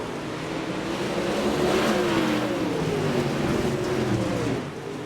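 Dirt track race cars in a heat race at Pevely roar past together. Loud, rising and falling engine revs build to a peak near the middle, then ease off.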